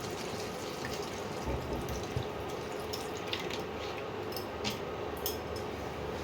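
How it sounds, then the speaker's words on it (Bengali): Water poured into a pan of mushroom and potato curry gives a steady, continuous running splash with faint dripping, close by and without talk. "এবারে জল দিয়ে দেবো"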